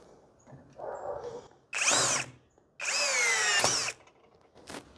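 A Hanabi 16V cordless screwdriver drives a screw in two loud, whining bursts after a softer low run-up, the motor pitch sliding as the screw seats, then a short final blip.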